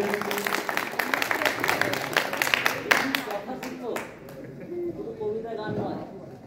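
Audience applause at a school alumni reunion in a hall, a burst of many hands clapping for a few seconds that fades into crowd murmur and a voice speaking.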